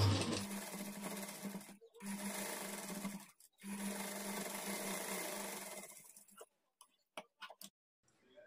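Sewing machine stitching a folded fabric strip onto a blouse at a quarter-inch margin, running in three steady bursts with short pauses between, then stopping into a few faint clicks and handling noises.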